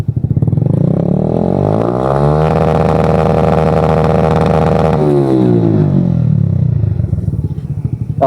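A Suzuki Smash motorcycle with an Apido v3 exhaust revs up close and loud, climbs to a sustained high-rev hold for a few seconds, then drops back to a rumbling idle-like throb.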